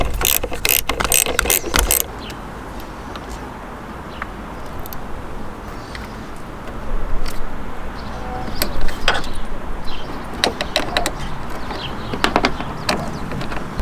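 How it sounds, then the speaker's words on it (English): A 10mm ratchet spanner clicks steadily while taking the fittings off a car battery terminal, with a few sharp knocks at the start and close, brisk ratcheting throughout. "All I'm going to need is my 10mm ratchet spanner to pop these off"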